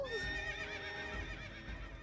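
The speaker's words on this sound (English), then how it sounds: "It's my horse." A horse neighs in the video game Princess Peach Showtime, a single shrill whinny that wavers and trails off, close and clear over a soft game background.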